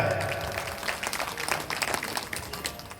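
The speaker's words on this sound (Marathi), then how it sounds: "जोरदार टाळ्या" A crowd at a Republic Day Lakshman Shakti devotional performance claps loudly and steadily, a dense patter of many hands under a faint murmur of voices.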